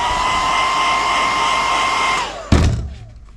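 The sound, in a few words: heat gun heating the bottom of a body decal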